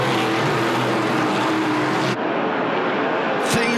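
NASCAR Pinty's Series race cars at the start of the Lucas Oil 250, a loud, dense roar of many engines filling the air continuously, shifting in tone partway through as the pack sweeps by.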